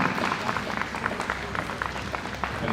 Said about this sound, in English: Round of applause for Lau Ka Man.